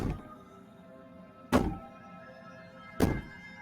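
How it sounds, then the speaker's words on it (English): Two heavy thumps of a fist banging on a door in the game Slay the Princess, evenly spaced about one and a half seconds apart, muffled and low over a quiet ambient bed. "Bang on the door all you want"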